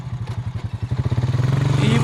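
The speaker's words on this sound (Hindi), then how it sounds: "वह स्कूटर को स्टार्ट करती है।" A scooter engine starts up in the Evil Nun horror mobile game, a pulsing idle that quickens and rises into a steady revving drone over about two seconds, fairly loud and close.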